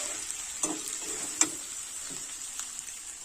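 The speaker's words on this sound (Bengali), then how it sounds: "অল্প জল দেবো দিয়ে তিন মিনিটের জন্য ভেজে রাখবো মাংস" Chicken meat frying in a pan with a little water added, a continuous bright sizzle with a few sharp spatula taps and stirring knocks, moderate level, no talking.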